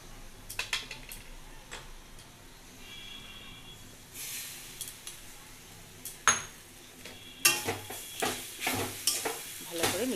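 Kheshari greens cooked with a flour mixture in a pot, quiet sizzling under repeated scraping and clinking of a spoon against the metal, the stirring strokes growing louder and more frequent toward the end.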